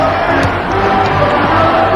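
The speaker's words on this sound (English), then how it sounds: "This is a rather enthusiastic crowd in the Forum." Enthusiastic arena crowd at the Forum during a 1978 NBA basketball game between the Lakers and Sonics, a steady loud roar of cheering and voices filling the whole stretch, with a few whoops rising briefly above it.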